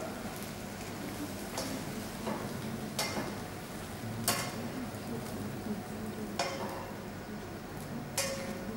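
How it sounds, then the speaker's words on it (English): Egg fried rice is stirred in a pan while it sizzles softly, a spatula knocking and scraping the pan in sharp clacks every second or so over a constant quiet frying hiss. "you just keep stirring until it's totally dry and that's done"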